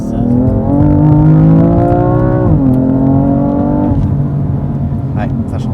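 BMW M3 straight-six engine with a sporty induction note, a loud, steady, close-up drone whose pitch climbs, drops around a shift and then rises again, running continuously throughout.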